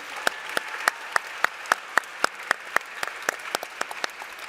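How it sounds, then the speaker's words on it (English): At a marketing conference, an audience applauds a panel with sparse, sharp claps in a quick, fairly even rhythm, close and distinct rather than a dense roar. No talking is heard. "I'd love you to give a warm round of applause to Claudia"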